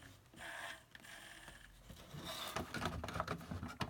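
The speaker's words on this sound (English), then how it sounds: "You should hear this kind of sound, just a basic motor sound" A singing fish toy's small motor runs with a faint, close mechanical whir and light ratcheting clicks, growing busier and more clattery toward the end.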